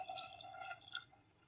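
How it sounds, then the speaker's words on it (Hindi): Water trickles and drips into a pot of cooking masoor dal, soft and close, a brief splashing pour that thins out toward the end. "अब मैं इसमें थोड़ा पानी और ऐड करूंगी"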